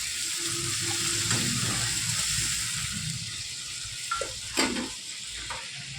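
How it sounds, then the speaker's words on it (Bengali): Water poured onto potatoes sautéed with garam masala paste for katla fish curry sets off a steady, close sizzle and bubbling, with a few pan and utensil knocks near the end. "আলু কষানো হয়ে গেছে, এখন আমি দিয়ে দেবো জল।"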